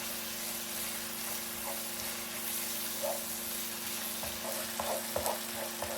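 Aromatics sauté in a pan for Marry Me Chicken, a soft steady sizzle under a low hum, with occasional light stirring taps and spatters near the end.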